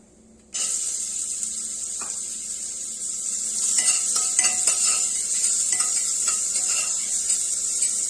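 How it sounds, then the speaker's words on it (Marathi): Onion sautéing in a pan with cumin and cinnamon sticks, a bright continuous sizzle that starts suddenly and stays loud, with spatula scrapes and light clinks through it. "कांदा ट्रान्सपरंट होईपर्यंत आपल्याला परतून घ्यायचा आहे"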